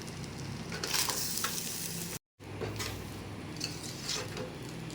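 Chicken fried rice frying in a pan while being stirred, a loud, continuous crackling sizzle with scraping strokes, broken by a brief gap of silence midway.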